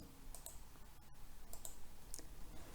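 Mouse clicks on a toolbar button in Microsoft Word: about three quiet, crisp clicks spaced unevenly over a low background hiss, with no talking.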